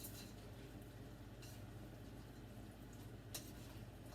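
Tomatoes and other vegetables, including a fresh tomato, simmer in a pot with a soft, steady bubbling hiss held at an even level throughout, with a couple of faint clinks.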